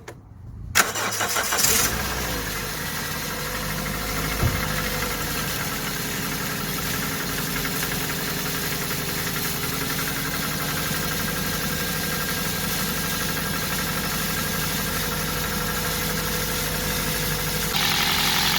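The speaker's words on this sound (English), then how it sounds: "just gonna start the car up to see if there is any leak" A Toyota Corolla engine cranks and catches after a brief start, then settles into a steady, even idle heard close by for a long stretch with no talk.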